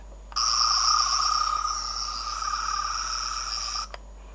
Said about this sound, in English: here is sound 1, which is just basically the sort of whirring sound